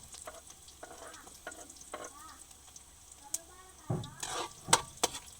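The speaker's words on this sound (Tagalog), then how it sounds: "Ilalagay na natin yung bawang, sibuyas" Garlic and onion sauté in a pan with a faint, soft sizzle, punctuated by a few light scrapes and clinks of stirring that grow busier near the end.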